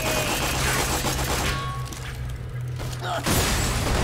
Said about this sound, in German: Das war der Granatenmod übrigens.